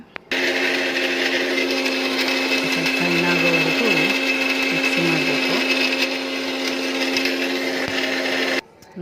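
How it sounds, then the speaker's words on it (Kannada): A mixer grinder whirs steadily for about eight seconds while grinding garlic into roasted gram chutney powder, a loud continuous motor drone that starts and stops abruptly, with faint voices in the background. "ಬೆಳ್ಳುಳ್ಳಿ ಹಾಕಿ ಮಿಕ್ಸಿ ಮಾಡಬೇಕೀಗ"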